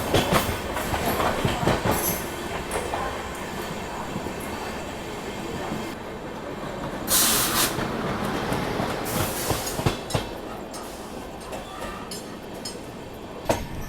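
The Supaul–Pune Express rolls past at close range, with a loud, continuous rumble of railcars and rhythmic clickety-clack of wheels over rail joints, plus bursts of brighter wheel squeal and rattling.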